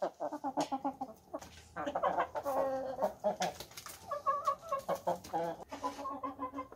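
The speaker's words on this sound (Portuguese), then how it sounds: "A caminha aqui do meu galinheiro, então as galinhas estão ali, ó." Hens in a backyard henhouse clucking busily and continuously, several birds close by with overlapping, choppy calls and no talk.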